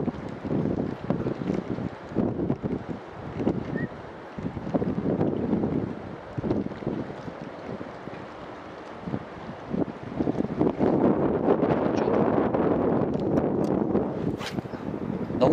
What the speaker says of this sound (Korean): 지금 바람이 조금 강해서 액션 잘 안 들어가네요